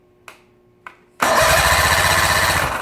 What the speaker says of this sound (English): Plug the little tester on. And we'll crank it over again.